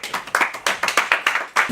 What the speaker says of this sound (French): mesdames et messieurs, on applaudit monsieur Tino La Vitale